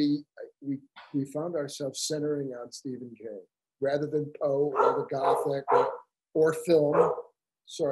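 A dog barks in the background of a home, a few short yaps partly mixed in with a man's continuous conversational speech that stays louder and nearer.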